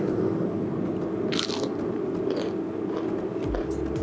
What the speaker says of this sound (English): The crunch is immaculate.